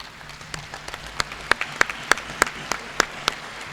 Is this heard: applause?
yes